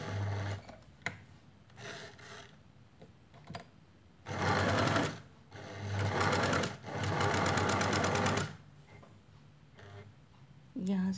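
Several bursts of a sewing machine stitch a cotton mask, running in rapid runs with pauses between, while someone talks quietly in the gaps.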